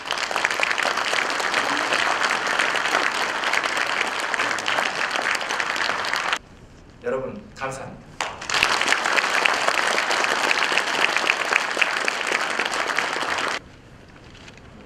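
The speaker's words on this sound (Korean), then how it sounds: "박수로 환영해 주십니다" An audience at a lecture hall applauds to welcome a speaker to the podium, a sustained roar of clapping that pauses briefly while a voice speaks over a quieter room, then surges again before cutting off.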